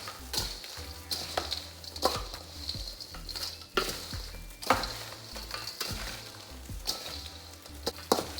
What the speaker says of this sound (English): I'm gonna add the rest of my strawberries and the rest of my crumble. and mix that together